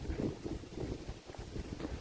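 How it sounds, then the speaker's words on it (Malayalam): Gusty strong wind buffeting the microphone at the hilltop Anakkara Mettu viewpoint in Kerala's high ranges, in low, rumbling bursts, fairly close and uneven, with no talking. "ആയ് നല്ല കാറ്റ്"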